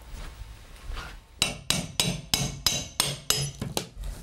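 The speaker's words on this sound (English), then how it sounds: "What I'm using to take up the old baseboards is just a pry bar and a hammer." A pry bar and hammer prying old baseboards off a room's walls, with about eight sharp, evenly spaced metallic strikes that ring out close and loud after a quieter opening.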